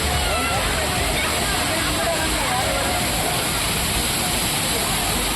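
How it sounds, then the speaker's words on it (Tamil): Thirparappu waterfall in Kanniyakumari district, swollen by summer rain, pours down in a loud, continuous roar of gushing water that holds steady throughout. "கன்னியாகுமரி மாவட்டத்தில் உள்ள திருப்பரப்பு அருவியில் தண்ணீர் ஆர்ப்பரித்து கொட்டுகிறது"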